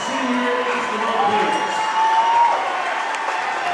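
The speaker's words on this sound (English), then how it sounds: "Let's give a round of applause for number 10, Cole Welch, one of our senior basketball" A basketball crowd at a Pleasant Grove vs Lehi game applauds and cheers for a senior player, a steady wash of clapping and shouts, with a public-address voice and whistling tones mixed in.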